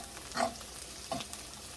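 Pheasant back with spruce tips and chives sizzles quietly in a frying pan, with a steady hiss of frying and two soft scraping stirs of a utensil.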